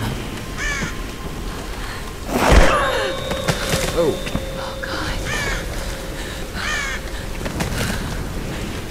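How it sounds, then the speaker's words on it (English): A crow caws repeatedly in the Tomb Raider video game, several harsh calls spaced across the scene alongside a thud, while a player speaks briefly over it. "Step right through the bird here."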